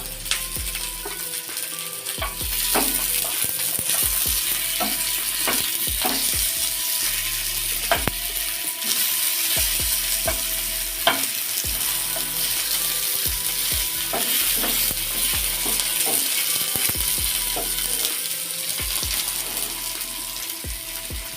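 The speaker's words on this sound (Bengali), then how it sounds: "টমেটোগুলো দিয়ে দিলাম, রসুনগুলো দিয়ে দিলাম," Tomatoes and garlic fry in a pan for pabda fish curry, sizzling continuously with frequent scraping and clicking as they are stirred, all close and without talk.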